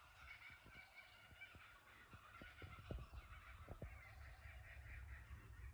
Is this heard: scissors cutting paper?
no